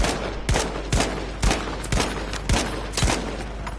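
Battlefield 5 gunfire, a rhythmic series of about seven loud, sharp shots spaced roughly half a second apart, each cracking close and decaying quickly over a steady background.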